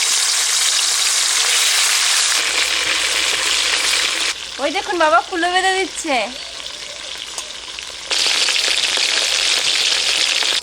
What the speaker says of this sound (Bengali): এবার মাছটা ভেজে নেব সর্ষের তেল এই মাছ ভাজতে গেলে কিন্তু একটু কঠিন